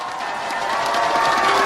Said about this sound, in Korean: 대구 시민의 승리의 기운을 모아 힘찬 박수로 응원해 주십시오